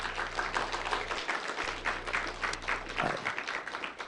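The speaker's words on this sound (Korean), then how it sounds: "박수 한번 주세요" A church congregation at a Friday evening worship service applauds, scattered clapping rising and falling over a low hum, with no speech over it.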